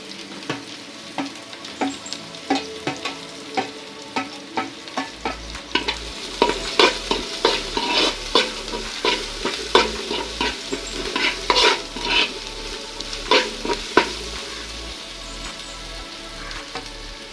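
Chopped small shallots frying in a pan for ginger pickle, with a steady sizzle under repeated stirring strokes and clinks of a spoon against the pan, close and rhythmic throughout.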